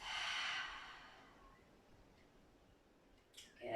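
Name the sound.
deep breath exhaled through the mouth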